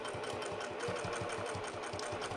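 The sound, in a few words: sewing machine stitching a fabric seam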